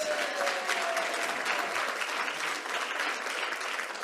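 A banquet audience at a Rotary Club of Fort Worth toast applauds steadily, dense clapping sustained and loud throughout without pause.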